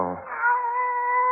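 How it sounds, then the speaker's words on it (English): A pet cat in a radio drama gives a single drawn-out meow, loud and close, with no voices over it. "it's you, Kitty. Barbara's pet"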